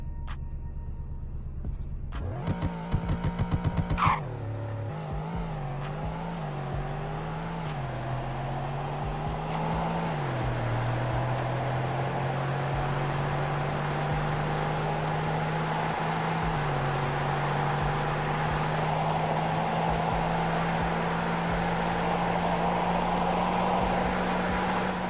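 A hypercar engine in a video game revs up hard, then holds a steady high-pitched drone as the car runs flat out in a top speed test, loud and close with no talking.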